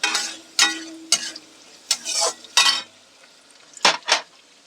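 Chopped onion goes into chira pulao cooking in a pan, heard as loud, close bursts of spatula scraping and utensil clatter separated by quiet gaps, with no one talking.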